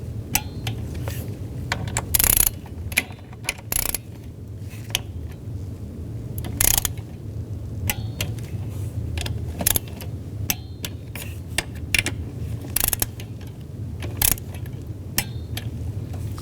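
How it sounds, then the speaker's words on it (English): Sharp metallic clicks of a torque wrench tightening throttle body bolts on a Buick Lacrosse, scattered and irregular over a low steady hum, close by with no talk. "Now we're going to torque these to 89 inch-pounds."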